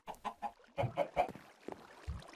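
A chicken in a video game map clucks in a series of short, close, repeated calls with a brief pause, ending in a lower cluck.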